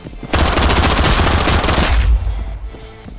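Sustained automatic gunfire from hip firing in the shooter game Contractors Showdown, a loud dense burst lasting about two seconds before cutting off into quieter game ambience.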